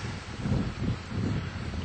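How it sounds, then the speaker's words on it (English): Gusty wind buffets the microphone outdoors on a Sunday morning in the Lemhi Range, making a close, low rumbling roar that swells and eases without any voices. "It's a little bit windy."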